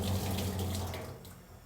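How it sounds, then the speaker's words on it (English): Water running steadily from a tap in a Pizza Hut kitchen, a quiet continuous rush that fades slightly toward the end, with no voices. "we're very carefully just let the water flow out"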